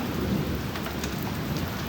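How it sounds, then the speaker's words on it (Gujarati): Heavy rain shower pouring down steadily with rumbling thunder, a dense, loud and continuous wash of rain on surfaces with no voices. "એવો વરસાદનો ઝાપટા આવ્યો"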